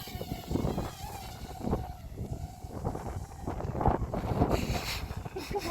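A small Syma X21 quadcopter drone buzzes in flight outdoors in high wind, a faint whiny propeller hum rising and fading under gusty wind noise on the microphone.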